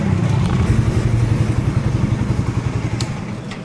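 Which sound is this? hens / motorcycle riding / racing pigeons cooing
motorcycle riding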